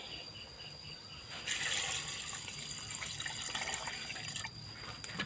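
Water pours from a tap into a cooking pot holding pork bones, a soft, steady splashing stream that starts partway through, faint and close, with a high hum in the background.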